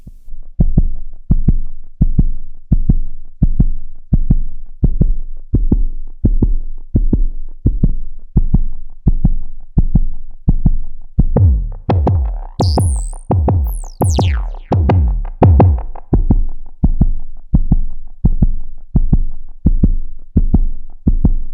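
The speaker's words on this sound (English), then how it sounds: "And this kick drum, which gets its sound thanks to the filters." A deep, punchy synthesized kick drum shaped by filters, from Arturia V Collection 9, thumps in a steady, even rhythm, loud and up close, with a brief high whistling sweep partway through.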